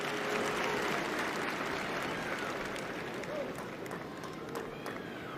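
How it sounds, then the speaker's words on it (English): A crowd at a Big Ten college wrestling match between Michigan and Penn State bursts into dense applause and clapping that carries on steadily at arena distance, with faint voices mixed in. "people just gave the clap as like, whoa"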